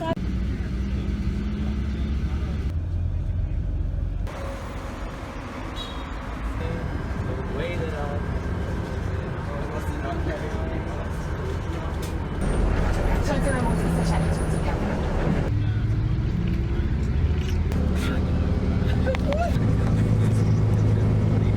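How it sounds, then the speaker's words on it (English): Street traffic in China heard from inside a moving bus, a continuous low engine rumble with passing vehicles and horns, while people talk over it. "Bad traffic."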